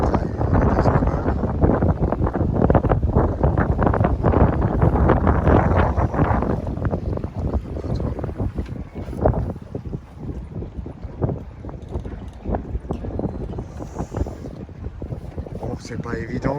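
Steady wind rushing past the microphone aboard a motor-driven electric boat on open water at Metz, a loud broadband roar that is heavier at first and eases slightly, with no talk over it.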